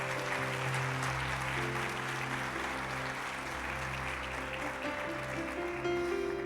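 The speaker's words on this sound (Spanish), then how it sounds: "Dale un aplauso al Señor." A church congregation gives steady, even applause during a Christian service, a continuous moderate clapping wash with sustained keyboard or organ tones held underneath throughout.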